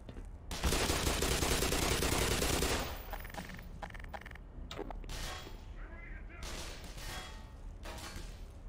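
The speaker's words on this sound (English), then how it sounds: "You guys are starting to shoot at me now." Enemies fire on the player in the first-person shooter Black Mesa, a loud dense burst of gunfire for about two seconds followed by scattered clanks, thumps and mechanical noises at steady level.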